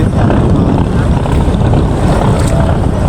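A boat crosses the middle of the Buriganga river, giving a loud, constant low rumble and wash mixed with heavy wind buffeting close to the microphone.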